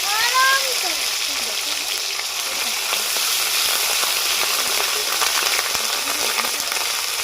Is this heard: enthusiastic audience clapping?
no